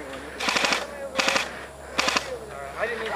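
Airsoft guns fire in three or four quick rattling bursts during an outdoor skirmish game, close and crisp, with faint voices in the background.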